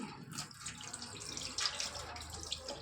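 Tap water runs steadily into a sink while raw chicken is rinsed, a continuous splashing hiss with a few sharper splashes, close and moderately loud, with no talking.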